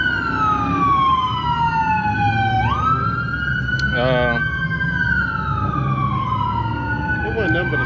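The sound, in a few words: emergency vehicle siren blasting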